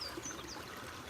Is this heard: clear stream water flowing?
yes